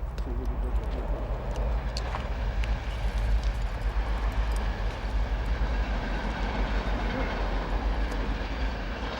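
A train rolls along the rails with a steady low rumble and faint scattered clicks and squeaks, heard from inside or nearby.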